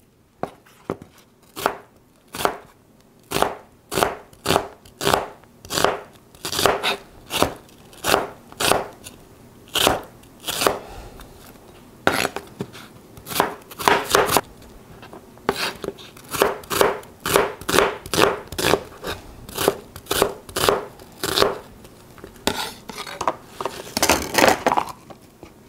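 Onions being sliced with a knife on a cutting board, a long run of crisp, evenly paced chops that speed into quick bursts, close and clear without talk.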